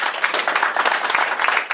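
An audience applauding at an accordion meeting and instrument exhibition, dense continuous clapping from many hands, loud and close, sustained evenly throughout without a break.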